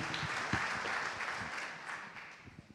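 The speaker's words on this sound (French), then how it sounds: "La 3e question, on peut applaudir aussi." Audience in a hall applauding during a French sports evening event, a moderate wash of clapping that holds steady and slowly fades.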